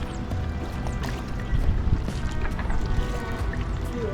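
Lake water lapping gently at the shore of Lake Livingston, a soft, continuous watery wash with small splashes and trickles, close by and fairly quiet.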